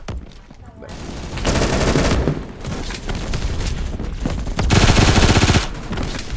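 MP5 submachine guns firing in a video game, loud rapid bursts of automatic fire in several stretches with short pauses between, crackling close and dense with no talk over them.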